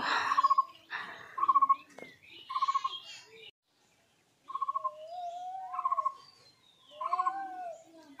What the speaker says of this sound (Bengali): কি একটা পাখি ডাকছে।